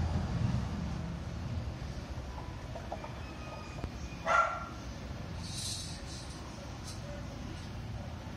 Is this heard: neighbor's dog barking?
yes